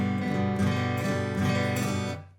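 Acoustic guitar strummed stiffly with the whole arm, chords ringing continuously in a heavy, evenly pushed rhythm, close and steady with no voice.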